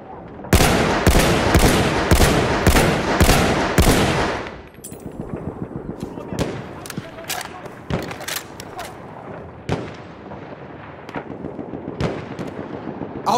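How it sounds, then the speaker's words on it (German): Battlefield 1 machine gun fire in Galicia, a loud rapid string of close bursts that breaks off into scattered, more distant shots and booms; someone shouts in German over the battle. "Maschinengewehr gesichtet!"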